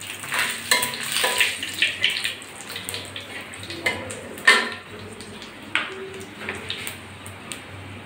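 Bay leaves and dried red chillies hit hot oil with a bright sizzle, joined by recurring clinks and scrapes of a utensil against the pan; no one talks.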